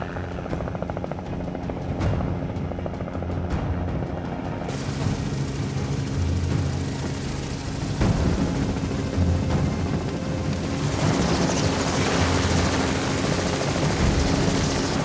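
A helicopter passes overhead with a loud, throbbing rotor chop and a turbine whine over a busy mix of engine rumble, growing brighter and more intense in the later seconds.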